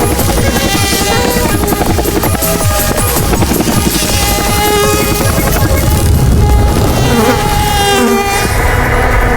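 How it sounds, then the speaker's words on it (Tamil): Loud, continuous high whine of a mosquito buzzing close by, sustained and wavering throughout with no speech, set in a comedy film scene. "இப்போ நான் ஒரு கொசு கடிச்சதில்ல, அதை போய் பிடிச்சிட்டு வா."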